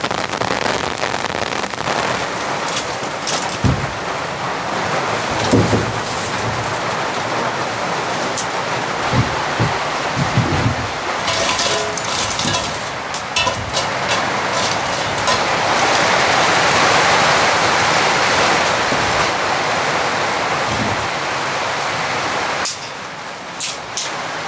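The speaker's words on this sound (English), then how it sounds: "It's coming in big time out here. Wind up in the trees, rain." Heavy winter rain and wind sweep through trees outside a cabin, a dense, hissing downpour with scattered louder gusts and sharp patters, loud and continuous throughout.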